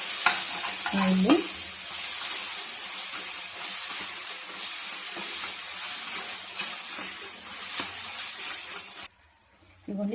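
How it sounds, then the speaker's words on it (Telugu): Egg and spring onion fry in hot oil in a pan, giving a loud, steady sizzle with stirring scrapes throughout, then cutting off abruptly near the end. "ఇది ఆయిల్ అయితే మంచిగా మగ్గుతుందండి"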